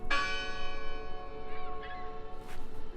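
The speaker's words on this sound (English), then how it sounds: "The bell's still ringing." A large church-style bell tolls in the video game Draugen, its long resonant strike ringing out at the start and decaying slowly over a few seconds, with faint ambient noise beneath.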